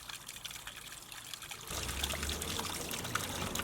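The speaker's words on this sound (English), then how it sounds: "So here's the main waterfall." Water trickles over the spillway of a newly built garden pond waterfall, rocked in with sandstone and a stone slab. The splashing runs steady and close throughout, growing noticeably fuller and louder about halfway through, with no talking.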